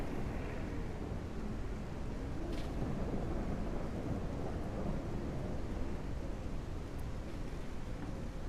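Thunderstorm inside the video game Surroundead, with a steady wash of rain and wind and a low rolling rumble of thunder running throughout, fairly loud and continuous with no talking.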